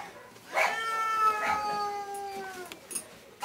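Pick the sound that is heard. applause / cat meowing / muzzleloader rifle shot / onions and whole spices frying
cat meowing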